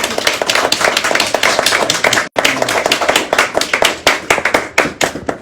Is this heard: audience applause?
yes